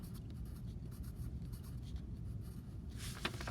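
Pen or pencil scratches across paper in quick, soft strokes that continue steadily, recorded close with nobody talking.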